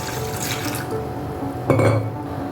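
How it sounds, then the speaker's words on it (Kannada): Cold water is poured into a glass in a steady close stream, with a brief louder splash near the end. "ಒಂದು ಲೋಟದಷ್ಟು ನೀರು ಹಾಕ್ಕೊಳ್ಳೋಣ ಕೋಲ್ಡ್ ನೀರು ಹಾಕೊಂಡ್ರೆ ತುಂಬ ಚೆನ್ನಾಗಿರುತ್ತೆ"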